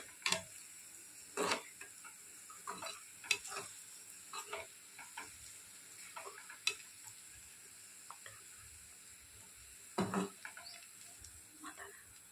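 Frying in ghee or oil until golden for mutton biryani gives a faint, quiet sizzle, with sharp clinks and scraping stirs of a utensil in the pan now and then.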